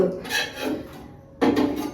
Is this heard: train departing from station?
no